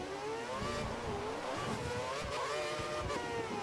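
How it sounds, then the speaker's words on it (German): Formula 1 car from the racing game F1 2013 braking hard at the German Grand Prix, a loud continuous engine whine with shifting pitch and downshift harmonics, close and steady throughout with no talk. "der Maldonado bremst aber auch stark ab"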